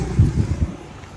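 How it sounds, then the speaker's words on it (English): Wind buffets the microphone outdoors on Phu Quoc Island, Vietnam, a brief low rumbling gust that eases off within about a second. "Oh, it's windy."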